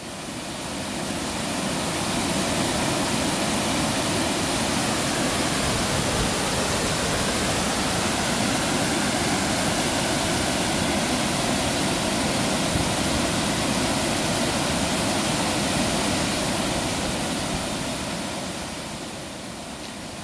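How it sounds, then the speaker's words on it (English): A waterfall by a lake pours steadily, a dense, loud, continuous roar of rushing water that holds unchanged for about twenty seconds with no other sounds. "Why don't we just sit back and listen to the falls for a little bit."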